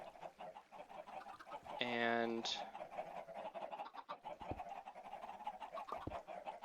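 Chickens in a Minecraft chicken farm give a short burst of clucking partway through, heard under a person's ongoing talk.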